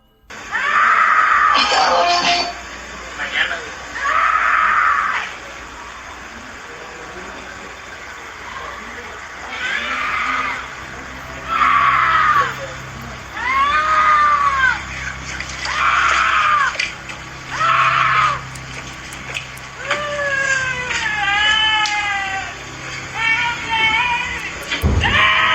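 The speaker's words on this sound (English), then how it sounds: "A woman screams out for help as she seemingly walks calmly down the street" A woman screams for help at night on a street, her loud, high cries rising and falling in repeated bursts over a low background hum.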